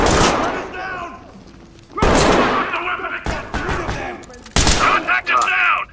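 Gunfire in the tactical shooter game Ready Or Not, loud sharp bursts of shots at about 0, 2, 3.3 and 4.5 seconds, mixed with game voices and shouting between the volleys.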